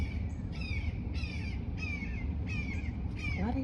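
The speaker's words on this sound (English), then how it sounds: "Oh, that's the eagles." Eagles flying low overhead give a series of five or six harsh, rising calls spaced roughly every half second over a steady outdoor rumble, fairly faint and distant-sounding.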